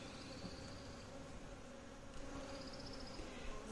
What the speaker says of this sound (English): shake the bees from the box in there